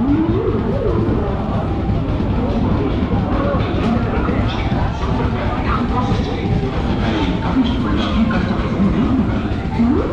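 A dense crowd jostling to board the general coach of an express train at Tirur railway station, loud continuous babble of many voices with station noise throughout.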